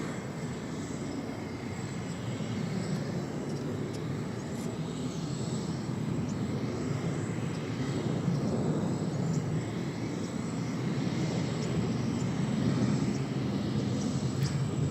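An Asiana Cargo airplane at DFW Airport produces a steady, broad engine roar that holds for the whole stretch, swelling slightly partway through, with no talk over it.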